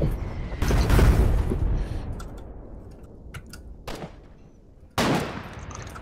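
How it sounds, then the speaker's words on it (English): Artillery barrage in the Foxhole war video game: a few loud, heavy booming blasts with rumbling tails, spaced several seconds apart, quieter rumble between them. "Our artillery's coming, boys!"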